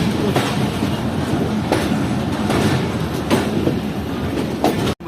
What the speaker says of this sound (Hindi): अबे भाईजान ट्रेन चल चुकी है।